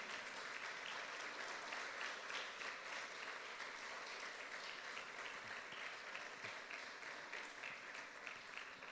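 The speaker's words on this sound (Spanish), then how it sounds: "Dale ese aplauso al Señor." A church congregation applauds in steady, dense clapping that carries evenly throughout, faint and somewhat distant with no voices standing out.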